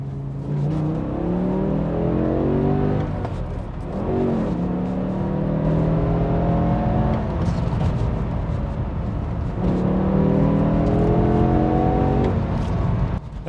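A BMW E60 M5 engine revs hard in M mode, loud and close, with rising harmonic sweeps that climb, drop back and climb again across several bursts.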